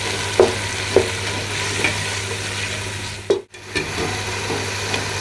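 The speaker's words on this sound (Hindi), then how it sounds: "5 मिनट हम इसकी भुनाई कर लेंगे।" Potatoes, tamarind and yogurt frying in a pan, a steady sizzle with a handful of scraping stirs at an unhurried pace and a brief hush where the pan is moved.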